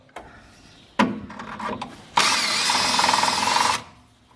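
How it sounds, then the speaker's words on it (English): Power drill boring through a vehicle drive shaft with the gearbox left in place, a couple of short bites and knocks, then a loud sustained high whine of cutting metal for over a second before stopping. "I've got to drill it through this side and the other side"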